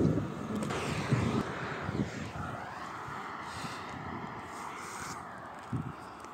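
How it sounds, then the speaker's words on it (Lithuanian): Strong wind buffets the microphone in a continuous low rumble, with gusts rising and falling and a faint vehicle drone passing. "Vėjas tai baisus. Labai didelis."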